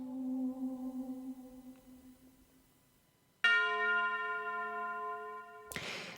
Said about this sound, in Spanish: Las campanas de la catedral,